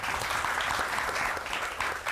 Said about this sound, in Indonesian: tepuk tangan buat Kak Dandi